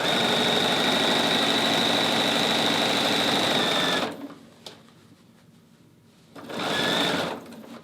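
A sewing machine stitches quilt binding at a quarter-inch seam, humming loud and steady for about four seconds, then stopping, then running again for a short burst.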